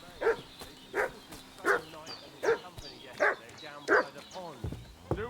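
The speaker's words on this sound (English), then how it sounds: "What's that dog making such a fuss about?" A dog in Kingdom Come Deliverance 2 barks in six evenly spaced, loud yaps, then breaks into higher whimpering whines at the end.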